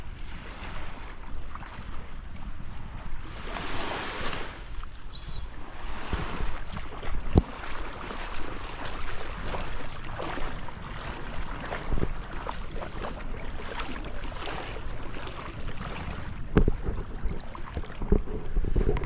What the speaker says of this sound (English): Perfect morning in Miami Beach.